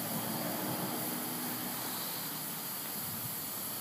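Continuous loud hissing of escaping steam from a live-steam model locomotive, broadband and steady, with no voices.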